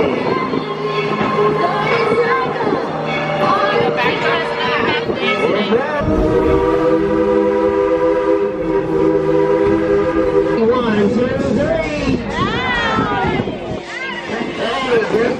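A small amusement park train ride at Dollywood rumbles along with a sustained horn blast mid-way, while people talk and call out over the rolling noise.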